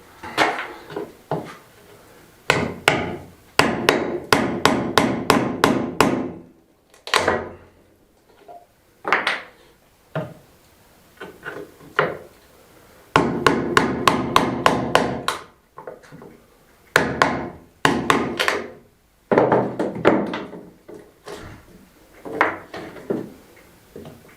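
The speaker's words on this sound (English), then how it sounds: "I need a better tool. I'll get a little chisel." A hammer striking a small chisel while restoring an old Spanish finca built from natural materials, loud sharp blows in rapid bursts of several strikes separated by short pauses, close by and without talk.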